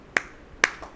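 Kartal hand clappers struck during kirtan devotional singing give two sharp, crisp clacks about half a second apart, followed by a fainter third tap, close and alone.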